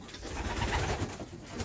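Pigeons coo inside a loft, soft throaty calls repeating close by over a low background hum with no voices.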